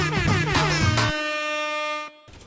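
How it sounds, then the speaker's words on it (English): In the SnowRunner truck game, a scout truck's air horn blares in short pulsing blasts, then holds one long, loud, steady tone before cutting off. "Get those air horns ready."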